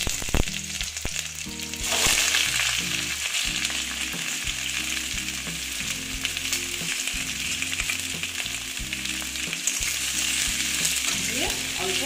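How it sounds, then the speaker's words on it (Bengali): Young jackfruit pieces sizzle and crackle loudly as they fry in hot oil for a Bengali echor kalia. A constant hiss is broken by the scrape and clatter of stirring. "দেখো বন্ধুরা, তেলটা গরম হয়ে গেছে, এবার আমি এখানে এঁচোড়গুলো দিয়ে দিচ্ছি।"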